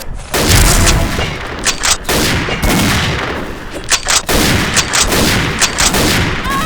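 Sniper rifle gunfire in the video game XShot: loud, heavy reports, with several big shots about two seconds apart plus bursts of rapid crackling fire, forming a dense, continuous firefight.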